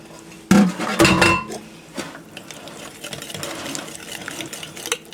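A whisk clattering against a bowl while stirring a corn and cracker crumb casserole mixture, a burst of quick metallic scraping and tapping up close, then quieter intermittent stirring sounds.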